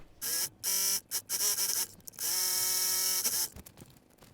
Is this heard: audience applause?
no